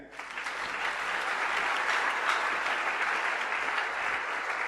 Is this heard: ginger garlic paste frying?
no